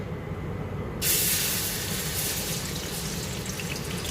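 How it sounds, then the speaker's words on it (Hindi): Ginger and garlic paste hits hot oil left over from frying onions, bursting into a sudden loud sizzle that then settles into a steady hiss close by. "ऑयल जिसमें हमने प्याज फ्राई किए थे, तो उसी में हम डालेंगे अदरक लहसुन का पेस्ट"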